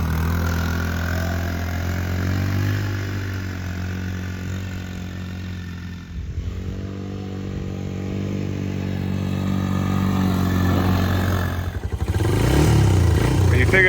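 A Kymco 150 ATV that sat unused for over ten years runs with a steady, close mid-pitched engine drone, briefly dipping then rising again as it is revved near the end.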